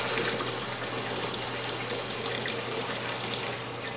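Water rushes steadily from a thermostatic mixing valve at a high, drench-shower flow rate, a loud, even hiss that stays constant throughout with no voices.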